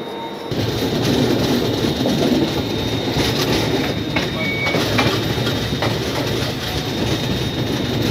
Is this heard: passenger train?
yes